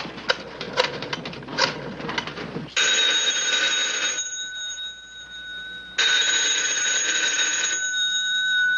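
An old-style telephone bell rings in two long, loud, shrill bursts with a pause between them, after a stretch of clattering noise.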